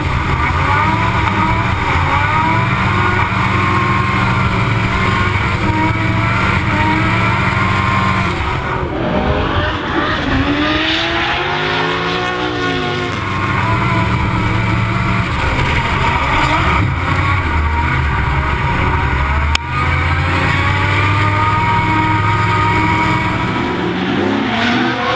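Drift cars, a Nissan Skyline and an R33, compete at the D1NZ grand final in Taupo: loud, sustained engine wail with rising and falling rev sweeps and tyre squeal, close and continuous.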